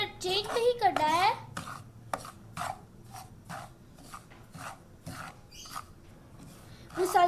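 A spoon stirs semolina roasting in ghee in a pan over low heat for gulab jamun, giving a repeated soft scraping rhythm of short strokes at a steady pace, and a person talks in between.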